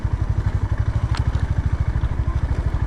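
A motorcycle grinds along slowly in first gear on a rough mountain trail near Chakrata, its engine thumping in a steady, loud pulsing rhythm close by, with faint clatter over the bumps.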